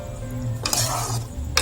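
Coriander leaves stirred into dahi pyaz in a pan: a quiet low hum, then a half-second burst of spoon scraping and wet stirring, followed by a short metallic clink of utensil against pan, no voices.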